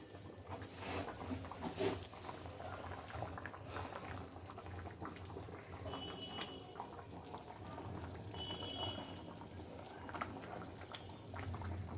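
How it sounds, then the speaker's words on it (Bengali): Urad dal with spinach bubbling in a pot on a gas stove, a faint, steady simmer with soft popping throughout, no speech. "ভালো করে ফুটিয়ে নেবে।"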